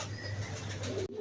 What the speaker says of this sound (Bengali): শুরুতে আজকে বেশ কিছু কোয়ালিটিফুল মাদ্রাজি কবুতর আছে